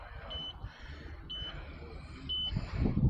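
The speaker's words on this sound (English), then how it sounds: "Hey, the bike beeping," A home exercise bike emits a series of short, thin electronic beeps, three evenly spaced tones about a second apart, faint against low room rumble and a few muffled voices.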